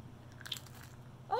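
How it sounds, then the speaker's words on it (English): A crunchy chocolate candy bar with crispy rice, a Russian Kit Kat-style log, gets bitten and chewed in faint close crunches before a voice begins at the end. "I hear some crunchy, crispy rice."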